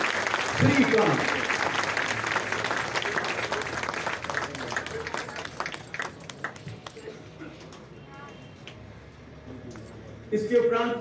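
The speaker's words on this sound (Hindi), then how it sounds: "जोरदार तालियां सर्वांग सर्वोत्तम श्रीकांत।" Applause from a crowd at a police training passing-out parade in Moradabad, steady clapping that swells early then fades gradually over about eleven seconds, with an announcer's voice over it.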